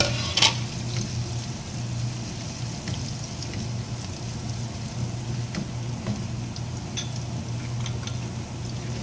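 Garlic and shredded dried fish (tuyo) sauté in a pan for Filipino fried rice, giving a steady close sizzle with faint stirring scrapes throughout.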